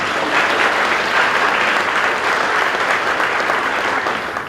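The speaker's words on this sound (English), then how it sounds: "Give her a round of applause as she comes." Steady, dense applause from an audience at a school presentation day as a speaker comes up, continuous and loud throughout with no voices over it.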